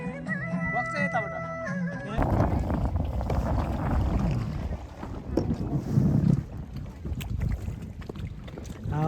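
Strong wind buffets the microphone on a journey to Kubinde Lake in Salyan, Nepal, a steady roaring rumble that swells and dips throughout, with people talking under it.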